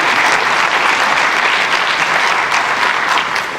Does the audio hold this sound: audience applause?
yes